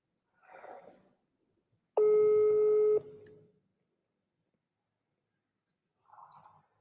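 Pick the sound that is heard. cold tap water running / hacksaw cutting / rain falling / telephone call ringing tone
telephone call ringing tone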